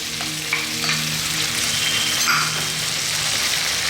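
Sauce of ketchup, oyster sauce and chili paste stir-frying in a pan in Sri Lankan home cooking, a steady close sizzle with a few light clinks of a utensil against the pan.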